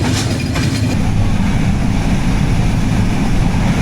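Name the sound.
Padma Express train running at night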